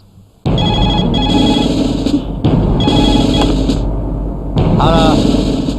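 A telephone rings after redial is pressed, three loud electronic rings with short pauses between them, close by.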